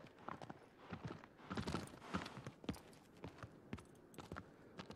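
Horse hooves clip-clop at a steady gallop-like rhythm in the video game Shadow of the Colossus, a string of sharp, fairly close impacts heard alone at moderate volume.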